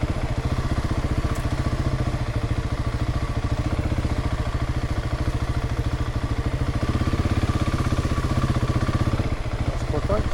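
Quad bikes run on an off-road adventure route across the UK, their engines rumbling loudly and steadily close by with a rough, clattering mid-range drone that never drops away.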